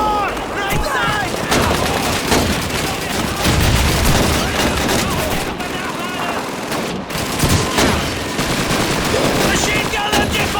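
MG-42 machine gun fire in the Call of Duty 2 game, set in a house with enemy infantry upstairs: loud, dense gunfire and bursts running nonstop, with shouted voices mixed into the battle noise.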